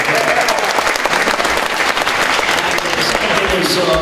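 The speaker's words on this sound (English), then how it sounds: "A big round of applause to you guys." A crowd at a Toronto event breaks into sustained applause, a thick continuous wash of many people clapping, loud and close throughout, with a few faint voices mixed into the crowd noise.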